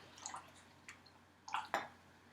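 Coconut milk pours from a can into a bowl in a kitchen, making a few soft, close splashing and dripping bursts over faint background hiss, the last two the loudest.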